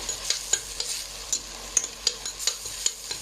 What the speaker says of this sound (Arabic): هنبدا نقلب اهو، نقلب باستمرار اهو